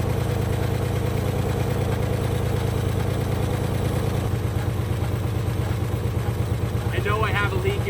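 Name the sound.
Ford Galaxie 500 engine running roughly, needing a tune-up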